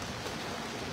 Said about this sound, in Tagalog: Sumilong kayo, may ulan.